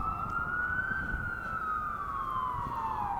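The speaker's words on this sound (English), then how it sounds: "Oh yeah, a siren." An emergency vehicle siren wails through a city street in New York, a loud continuous rising-and-falling tone with faint traffic rumble beneath and no speech.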